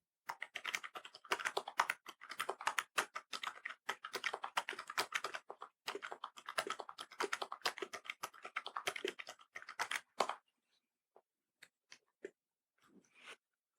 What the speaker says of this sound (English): I'll type something so that you can hear what the keyboard sounds like